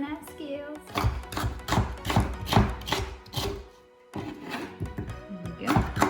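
Kitchen knife chopping orange and yellow bell peppers on a board, a run of quick, sharp, evenly spaced thunks, a short pause, then more chops, while someone talks.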